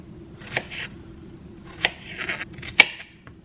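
Knife cutting four washed strawberries into small quarters on a board, giving several short, crisp slicing taps spaced irregularly, close and fairly quiet, with no talking.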